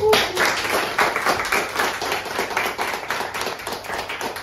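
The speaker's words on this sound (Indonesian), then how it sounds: "Jadi saya melihat ini tepuk tangannya semangat berat." A group claps enthusiastically and nonstop, a dense, loud patter of hands that stays steady throughout with no pause.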